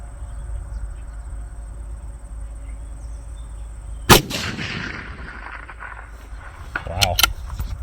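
Single sharp rifle shot fired at a long-range steel plate target about 640 yards away, a loud crack with a rolling echo, then a faint distant report and metallic clatter over quiet outdoor background.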